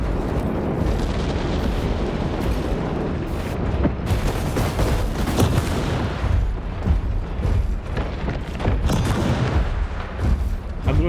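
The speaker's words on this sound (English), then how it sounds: "the way the cannons work is that most of the times you'll hit cover" Heavy mech cannons fire in War Robots Frontiers, a loud, dense barrage of booming blasts and impacts that continues without pause, with no talking.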